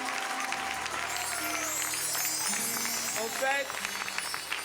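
A church congregation applauds their pastor's husband, a reverend, with steady dense clapping that fills the room while a voice speaks over it and music plays beneath.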